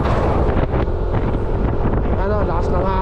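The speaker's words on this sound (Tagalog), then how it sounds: "Lakas ng hangin." Strong wind roars and buffets the microphone continuously outdoors in Karanglan, Philippines, a loud rumbling rush with a voice faintly audible beneath it.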